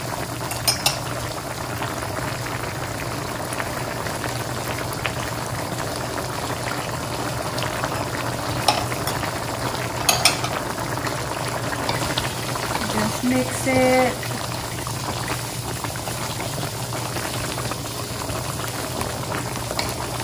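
Tilapia fillets frying and simmering in a pan for sweet and sour tilapia: a steady bubbling sizzle runs throughout, with a brief spoken remark over it.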